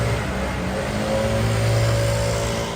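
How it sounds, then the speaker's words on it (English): A gas-powered leaf blower used by gardeners and residents in Tampa, Florida, drones steadily and loudly nearby, its engine tone holding fairly even with slight rises in pitch. "It's those annoying blowers that gardeners and residents use to clean the leaves out of their yards."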